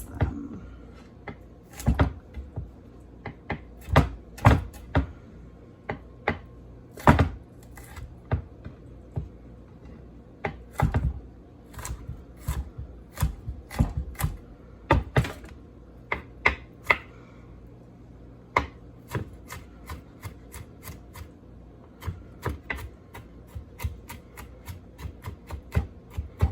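Garlic minced with a knife on a cutting board, a long run of quick, crisp chopping taps close up, irregular in rhythm with brief pauses.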